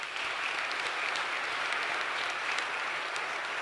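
A church congregation breaks into steady, sustained applause, a dense wash of clapping filling the whole moment at an even level from start to finish.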